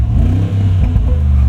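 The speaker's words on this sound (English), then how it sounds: "577 horsepower from the 4-liter bi-turbo V8. Love this engine." A 2025 Mercedes-AMG G63 with its 4-liter bi-turbo V8 revs up close by, a loud, throaty engine surge with rising pitch over a second and a half, no voices.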